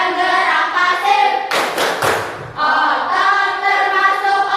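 Children in a class clap together in a quick burst between stretches of their chanting voices, the claps sharp and loud against the group's singing.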